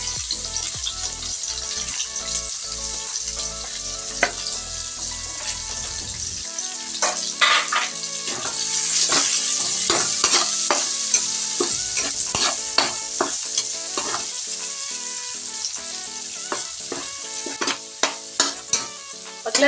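Onions sauté in a pan with a bright, continuous sizzle, while frequent scraping and clacking strokes of a spatula stir them close up throughout; no one speaks.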